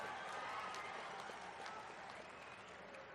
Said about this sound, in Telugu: కార్యకర్తలందరూ కూడా చప్పట్లతోనే కేసీఆర్ గుండెలు బలగొట్టాలి